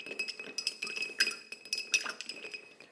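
A spoon stirs a gingerbread old fashioned cocktail in a glass, giving quiet, repeated metallic clinks and tinkles in an irregular rhythm, close up and with no talking.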